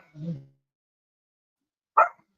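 Dogs from a household pack barking, one low gruff bark followed after a pause by a sharper, higher yip, both close and fairly quiet with silence between.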